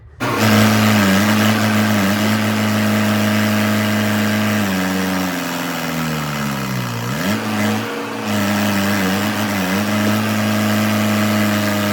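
A heavy tractor engine runs steadily and close by, its low drone dipping and rising briefly as the revs change, with no voices.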